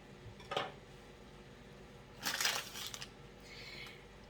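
A knife cuts through a block of soft almond paste on a board, with a brief crunchy contact near the start and a longer scraping, crushing pass midway, then a fainter rub, all close and quiet against a still room.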